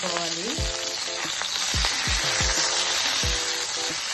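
Salted okra frying in a pan over a medium flame gives a bright, continuous sizzle and crackle. Several short falling tonal sweeps sound over the top of it, and no one speaks.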